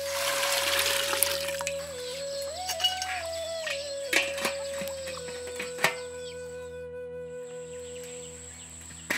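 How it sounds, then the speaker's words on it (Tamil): Hot water trickles and splashes into a metal idli steamer vessel in a village kitchen, a fairly faint, steady watery sound with a ringing tone and occasional clinks. "இட்லி பாத்திரத்துல கொஞ்சம் நிறையவே சுடுதண்ணி வச்சிடலாம்."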